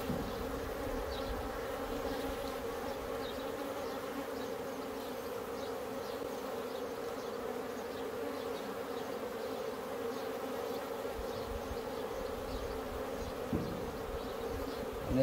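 Honeybees buzz steadily at an open hive holding a replacement queen, naturally built comb in a beekeeping inspection, a continuous close drone of many wings with no voices.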